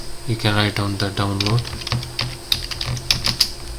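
Typing on a computer keyboard into a Google search in a web browser on Windows 11: quick, close clicking keystrokes come in irregular bursts, with a person talking briefly at the start.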